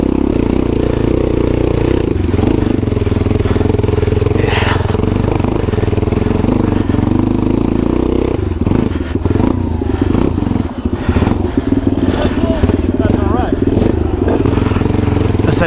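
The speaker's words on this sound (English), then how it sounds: "James and I on our XTs riding this stuff, which is kind of rough." Yamaha XT250 dual-sport motorcycles ridden over rough terrain near Cowansville, giving a steady, loud engine drone with clattering and revving surges throughout, close to the recorder.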